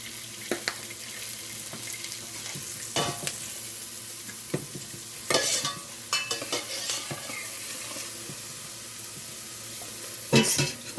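Onions and jarred home-canned food browning in a pan, heard as a steady moderate sizzle with scattered scrapes and clinks from stirring, a few stronger bursts near the middle and end.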